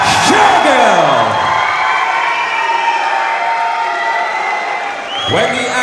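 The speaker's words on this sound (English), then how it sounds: "With a huge crowd behind him here all the way from Gravesend tonight" A large crowd cheers, whoops and applauds loudly and without a break for fighter Gurd Shergill of TFC Gravesend, England, entering the arena at a Fightstar Championship MMA event; an announcer's voice rises over the roar.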